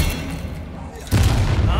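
Bombarda spell blast in Hogwarts Legacy lands as a sudden loud, low boom about midway, with a sustained rumbling roar afterward over ongoing game battle noise.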